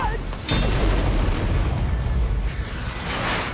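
A parried bomb explodes in Hi-Fi Rush with a loud, sudden boom, then a dense roaring rumble that fills the remaining seconds at close range.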